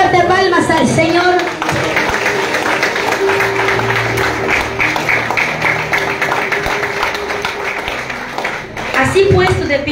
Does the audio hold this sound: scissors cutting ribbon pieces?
no